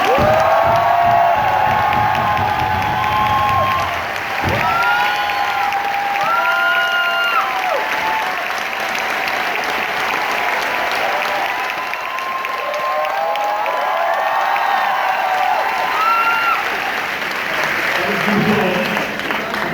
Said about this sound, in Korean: 이병규 선생에게 다시 한번 큰 박수 부탁드립니다